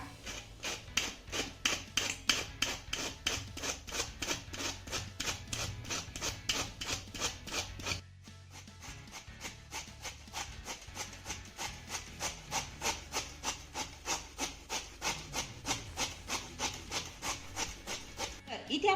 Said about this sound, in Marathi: हा भोपळा किसण्यासाठी इथे मी छोट्या किसणीचा वापर करणार आहे